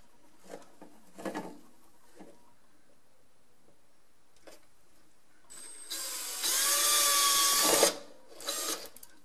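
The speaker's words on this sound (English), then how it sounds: "Just gonna drill them like that." A power drill driver with a 7/32 bit drills holes for anchors, with a few short clicks and bursts at first, then a sustained loud whining run near the end, followed by brief handling sounds.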